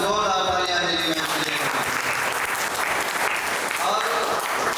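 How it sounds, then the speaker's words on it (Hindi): Audience applause at a company training event, loud, dense clapping from a crowd that follows a voice at the start and carries on strongly to the end. "तो जोरदार तालियां अंजलि में।"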